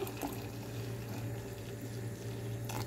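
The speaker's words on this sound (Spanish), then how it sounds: "ahora vamos a agregarle agua hervida que ya tengo lista" Boiled water poured into a pot of lentils, a faint steady rushing and splashing of liquid that holds evenly throughout over a low background hum.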